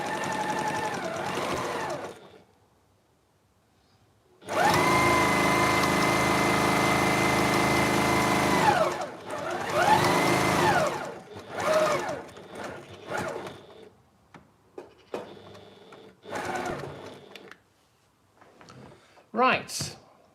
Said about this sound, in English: you're now sewing them all together to make your giant circle.